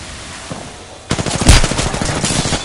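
Rapid automatic gunfire in an online shooter on PS4 breaks out suddenly, a loud close burst of repeated shots that rattles on steadily to the end over low background noise.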